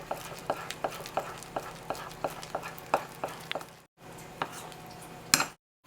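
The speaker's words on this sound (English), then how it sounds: "And then you just mix it up until it has the consistency you like." Cocoa powder and agave stirred into vegan chocolate frosting in a bowl, a soft steady rhythm of spoon taps and scrapes, close and fairly quiet, with a short pause near the end.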